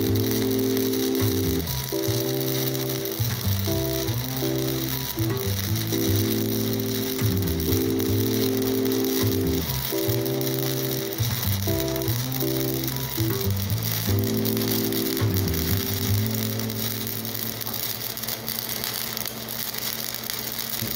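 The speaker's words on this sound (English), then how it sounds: "Figured I'd leave in a full length weld of how long it takes to weld in a piece of plate steel with this little Lincoln welder." A small Lincoln flux-core welder lays a long bead into plate steel on a 1989 Jeep Wrangler frame, giving a steady close crackling buzz broken by short pauses and restarts, with no talking.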